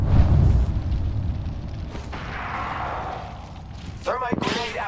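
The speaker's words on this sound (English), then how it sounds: "Thermite grenade out." A thermite grenade goes off in the Apex Legends shooter with a loud low boom at the start, followed by a rolling burning rumble and a sharp burst near the end, heard over continuous game noise.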